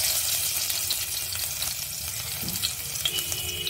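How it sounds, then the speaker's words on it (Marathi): Crushed garlic cloves frying in a little oil for a Malvani surmai fish curry, a steady close sizzle with crackling spatter throughout, loud and continuous without any talk. "लसूण टाकूया"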